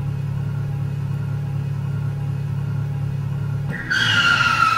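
A car in a driving game demo holds a steady low engine drone, then the brakes catch and a bright, squealing tire skid cuts in near the end, loud and close.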